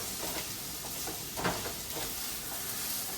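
Spices fry in a pan with a continuous dense sizzle, punctuated by a few soft stirring scrapes and one louder crackle near the middle.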